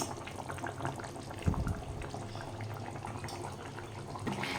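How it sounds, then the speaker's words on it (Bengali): Jackfruit kofta curry simmering in a pan of thin, watery gravy, a soft and fairly faint bubbling with one brief louder burble partway through, with no voices. "কোপ্তা কারিগুলো গ্রেভির মধ্যে দেওয়ার পর 3 থেকে 4 মিনিট মতো ভালো করে আমি ফুটিয়ে নিয়েছি"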